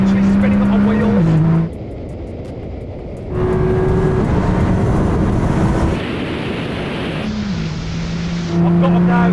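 A 1900bhp Nissan GTR accelerating hard with its wheels spinning, a loud roaring engine whose pitch climbs in stages with gear changes, heard from inside with a voice talking over it.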